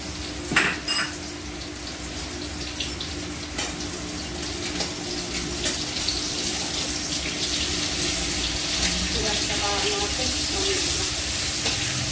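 Raw chicken pieces, 200 grams of meat with cornflour, rinsed under cold tap water in a kitchen sink, a steady broadband wash of running water with occasional clinks of a bowl or utensils, close and continuous.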